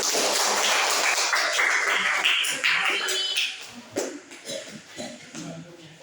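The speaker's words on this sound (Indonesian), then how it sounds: "kita beri tepuk tangan yang mulia" A seventh-grade class in a school classroom bursts into applause, a dense burst of clapping that tapers into scattered claps and shuffling after a few seconds.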